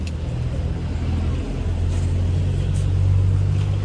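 Engine of a Toyota Glanza idling and pulling away at the start of a brake test drive, a steady low rumble that builds slightly in loudness, close and continuous with no talk.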